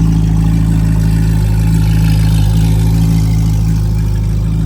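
A Chevrolet Corvette C8 Z06 engine runs loud and close, holding a steady deep idle with a strong low hum throughout and a slight swell partway through.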